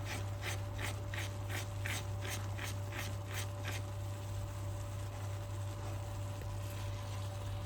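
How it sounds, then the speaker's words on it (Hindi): A spoon scraping and stirring milk in a pan while cooking barfi, a series of about ten quick rhythmic scrapes in the first few seconds, then a steady low hum with only faint background noise. "एहतियात से चम्मच चलाते रहें ताकि दूध नीचे से लगे नहीं।"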